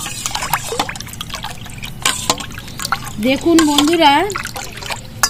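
Plain water poured from a bottle into a homemade mango drink mixture made with ripe mango: a steady trickling, splashing stream under a person talking.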